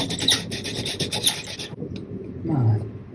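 A PSKook bow drill spindle rubs on a wooden fireboard held down with a clamp, giving a steady rasping friction that fades and then swells again, close by with no talking.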